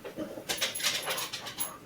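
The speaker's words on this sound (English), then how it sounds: "I need to let the dog out." A dog whimpers and whines in short, high, breathy bursts, fairly close and moderately loud, in an indoor room with no talk.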